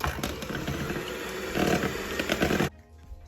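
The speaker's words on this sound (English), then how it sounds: "Then we're going to add in a second egg. And whisk that in." An egg is whisked into cupcake batter in a bowl, giving a close, fast rattling and scraping that continues for a couple of seconds, then stops.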